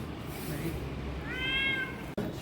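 A cat meows once near the Fateh Ali mosque by Charbagh in Lucknow, a short wavering call rising out of street noise at moderate distance, followed by a sharp click.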